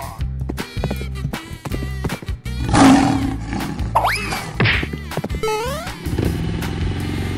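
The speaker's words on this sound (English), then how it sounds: "Lion." Cartoon-style lion roar in a children's animal-painting game, a loud roar bursting out among playful jingles, swoops and music.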